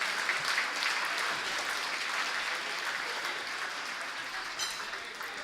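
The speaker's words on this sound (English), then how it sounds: "everybody give a nice round of applause" Guests at the Greater Dover Chamber of Commerce 2016 Awards Gala give a standing round of applause, an even, moderately loud rush of clapping that eases off slightly toward the end.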